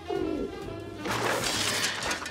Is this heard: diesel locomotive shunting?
no